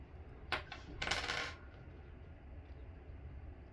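Faint metallic clinks and rustling as fabric is folded over metal D-rings while sewing a tote bag, two or three brief jingling bursts close by in an otherwise quiet room.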